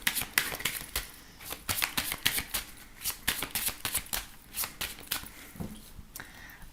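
A deck of tarot cards is shuffled for a reading: close, crisp riffling bursts and flicks repeat in quick succession with brief pauses in between, and no voice is heard.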